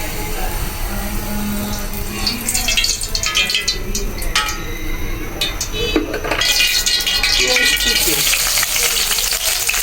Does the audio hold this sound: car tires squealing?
no